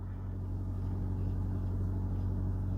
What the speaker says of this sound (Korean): 근데 이게 계속 시동 켜놔가지고 휘발유 모드로 바뀌었어요.